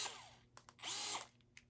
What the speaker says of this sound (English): DeWalt quarter chuck drill